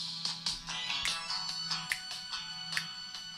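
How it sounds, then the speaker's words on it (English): A phone alarm plays a song as a tinny, rhythmic pop tune with punchy beats, heard on its own with no talking. "Oh, that's the alarm."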